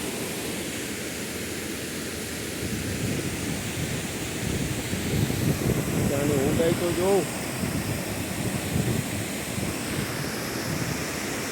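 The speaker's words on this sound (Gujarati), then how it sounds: "સામાન્ય ધોધથી પણ નબળું ના કહેવાય મિત્રો કેટલું પાણી જાય" A steady roar of water rushing over a check dam, loud and constant, while a person speaks briefly partway through.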